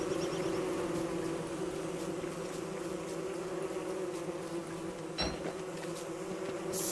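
Bees in the game Don't Starve buzz steadily and continuously, a soft insect hum with no voices and a faint click partway through.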